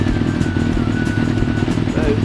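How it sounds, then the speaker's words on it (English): A 1995 Yamaha YZF 750R motorcycle engine running at a steady idle while warming up on fresh fuel, a close, even buzzing drone with a person talking over it. "So there you go, engine started, new fuel in, warming up nicely."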